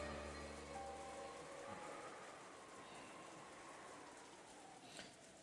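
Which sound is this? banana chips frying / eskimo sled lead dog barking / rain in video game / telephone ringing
rain in video game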